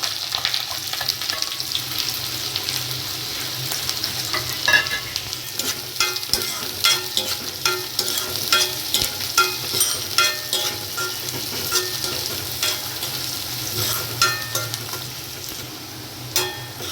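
Finely chopped onions frying with whole spices in a pan for chana masala, a continuous close sizzle broken by repeated scraping stirs, with occasional faint water splashes, steady throughout and no talking.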